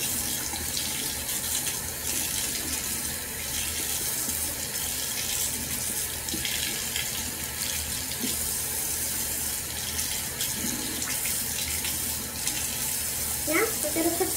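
Running tap water during hair washing, a steady close splashing flow that lasts throughout, with a voice heard faintly underneath.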